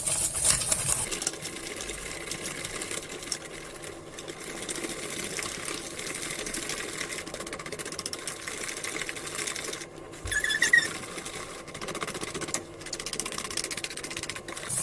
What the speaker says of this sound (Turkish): Şimdi bu eriyene kadar karıştıracağım biraz.